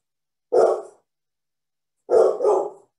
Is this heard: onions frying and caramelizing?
no